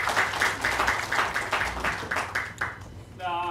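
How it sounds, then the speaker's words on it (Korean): An audience at a church anniversary service with a magic show claps in bursts of steady rhythmic applause. A voice and a short musical tone come in near the end. "박수 소리가 너무 작아요. 다시 한 번 더 크게."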